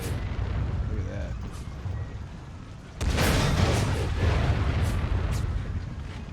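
Artillery bombardment in the Napoleon Total War video game, using the American Civil War mod in a multiplayer battle: a low, rumbling roar of distant cannon fire that swells and holds, with quieter booms before it and faint voices.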